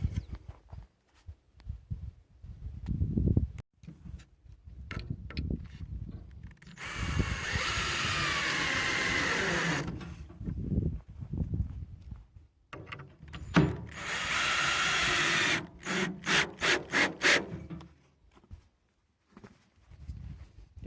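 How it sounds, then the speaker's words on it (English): A power drill driving screws to hold together the wooden boards of a rock screen, whirring in two sustained bursts with short ratcheting clicks and clunks between them, followed by a quick run of rapid pulses. "Now I'm just going to put a couple screws just to hold that together."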